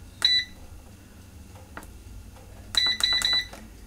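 An electric pressure canner gives a single short electronic beep, then after a pause a quick series of several beeps, over a low background hum.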